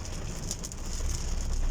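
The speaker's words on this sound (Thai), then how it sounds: "ฝนตกนะครับนนทบุรี บางใหญ่ บูตอง" Heavy rain pours down in Bang Bua Thong, Nonthaburi, a dense, continuous hiss of drops striking surfaces, loud and close with no voices over it.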